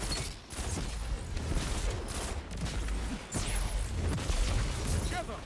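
Video game gunfire in Destiny: bursts of shots and booms crackle through a busy mix of effects, repeated in clusters with short gaps, loud and close against ongoing game sound.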